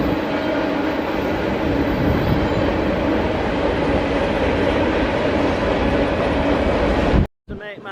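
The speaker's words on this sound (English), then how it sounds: "I'm stuck at the level crossing now. Can't get over until the train's gone." A train rumbling and clattering loudly past a level crossing, a steady heavy roar of wheels on rails that cuts off abruptly near the end.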